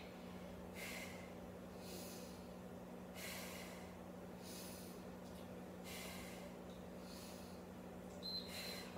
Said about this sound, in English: So breathe out, breathe in, breathe out, breathe in.